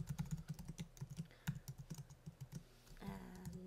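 Code is typed on a computer keyboard, with close, quick bursts of key clicks in an uneven rhythm followed by a brief pause and a softer clatter.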